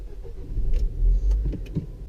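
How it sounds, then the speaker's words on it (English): A Nissan Versa car engine starting up, with a brief low crank and rumble that catches and settles into a steady idle, heard close from inside the car. "So we're going to start the car."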